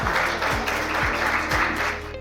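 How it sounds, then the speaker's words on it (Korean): Audience applause at an award ceremony for a software high-growth club results-sharing event, a steady wash of clapping filling the hall across the whole stretch, with a faint thump recurring underneath roughly every half second. "함께하시는 분들께서는 박수로 가득 채워주시기 바랍니다"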